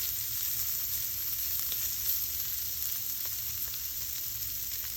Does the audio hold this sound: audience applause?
no